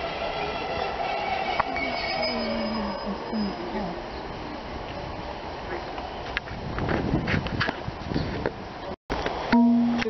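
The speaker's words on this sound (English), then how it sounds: "Now arriving in service to Exeter St David's, it's formed of a 150." A Class 150 diesel multiple unit pulls into Newton Abbot station, with a steady rumble of wheels and engine, squealing brakes and rising clatter as it slows, and a brief dropout near the end.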